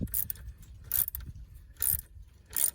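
Self-tapping screws being snugged down on the intake manifold of a 2001 Ford F-150, heard as short bursts of ratcheting clicks at close range, repeated four times with pauses between.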